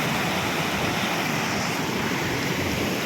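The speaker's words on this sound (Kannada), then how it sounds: "ಕಾಲಿಟ್ಟರೆ ಕೊಚ್ಕೊಂಡೇ ಹೊರಟೋಗುತ್ತೆ, ಅಷ್ಟು ರಭಸವಾಗಿ ಹರಿತಾ ಇದೆ ನೀರು." Fast-flowing Shimsha river water rushing hard past, a steady loud broadband roar with no pauses and no voices.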